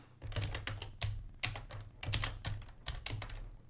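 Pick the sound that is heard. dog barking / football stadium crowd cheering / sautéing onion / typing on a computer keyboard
typing on a computer keyboard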